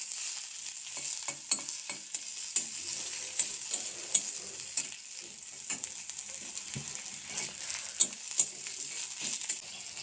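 Onion, ginger and garlic frying in a pan while being stirred, a steady hiss and sizzle broken by frequent scraping and clinking stir strokes, close up and without talk.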